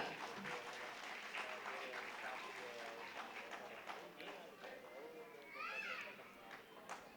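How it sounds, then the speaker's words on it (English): A crowd at a school event claps in sustained applause that gradually thins, with children's voices and chatter mixed in around it. "Vedisha, I want all of you to clap for Vedisha."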